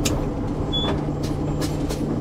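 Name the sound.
Peterbilt 389 truck braking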